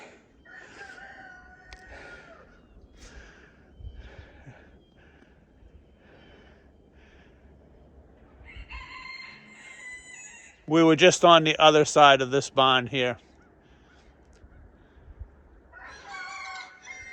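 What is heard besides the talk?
chickens clucking in a barn in snow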